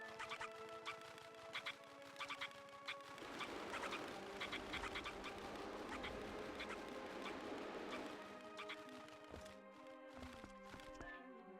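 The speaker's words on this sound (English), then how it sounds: "Thank you, weird human face chicken thing." Clucking and quacking calls from a human-faced chicken creature in Zelda: Twilight Princess HD, a string of short bird-like calls over steady game music and footsteps.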